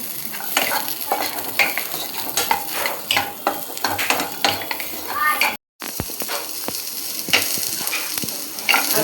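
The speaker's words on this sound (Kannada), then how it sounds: "ಒಂದು ಈರುಳ್ಳಿ ಕಟ್ ಮಾಡಿ ಸ್ವಲ್ಪ ಹುರಿತಾ ಇದ್ದೀನಿ" Chopped onion sizzles and fries in a pan for a Mangalore-style chicken sukka, with a steady crackle and frequent scraping stirs throughout. A brief gap breaks the sizzle midway.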